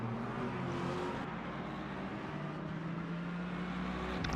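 A Lamborghini race car engine in the Assetto Corsa Competizione racing game at Sebring, a steady sustained roar at high revs with a constant hum that barely changes through the clip.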